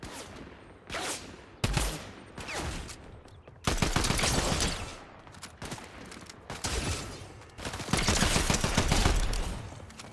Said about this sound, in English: Getting shot at from somewhere.